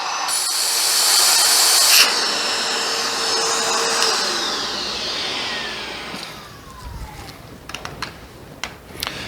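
A Bissell Pet Hair Eraser Turbo Plus vacuum cleaner runs with a loud steady whine and rushing airflow, the motor pitch sliding down as it winds toward a lower hum, with a few faint knocks near the end.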